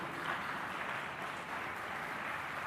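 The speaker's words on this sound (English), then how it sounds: "let us give a big round of applause for college management" An audience at a college council and clubs day event in Chennai applauds the college management, a dense, steady wash of clapping that holds evenly at a moderate distance throughout.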